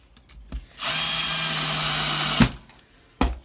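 Power drill driving a screw into a metal paint can for a homemade lighter cannon, one steady whir of under two seconds, close and loud, with a few clicks and knocks before and after.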